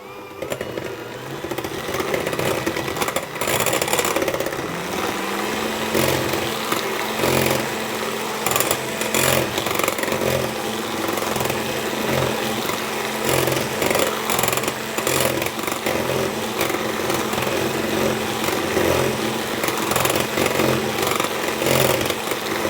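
An electric whisk beats cake batter with lemon zest for a lemon and vanilla bundt cake, a steady, loud motorized whir with a rattling beat that runs unbroken throughout.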